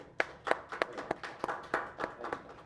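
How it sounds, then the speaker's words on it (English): Several people clap at a music audition in Miami, with sparse, distinct claps in an uneven rhythm that sound fairly close and quiet. "Everybody clap it up for him."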